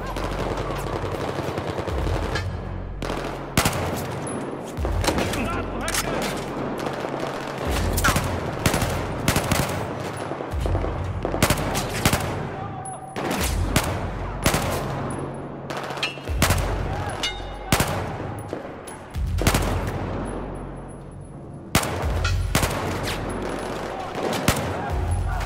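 Rapid gunfire in Battlefield 4's campaign, bursts of automatic shots and blasts repeating almost continuously, loud and close, with occasional voices mixed in.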